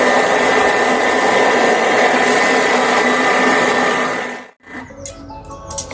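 A Thermomix food processor whirs loudly and steadily as it mixes choux dough for gougères, then cuts off abruptly near the end, leaving faint kitchen clatter.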